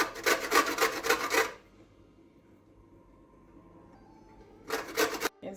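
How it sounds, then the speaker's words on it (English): A lemon is grated for zest on a hand grater in a home kitchen, heard as a close, rapid run of rasping scrapes, a pause of quiet, then another short burst of scraping. "and a grater, and just grate"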